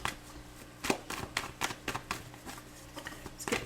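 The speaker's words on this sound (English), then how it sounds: "I'm gonna pull 3 more cards" Tarot cards shuffled and pulled from the deck up close, a series of sharp papery flicks and taps in an uneven rhythm, soft and alone.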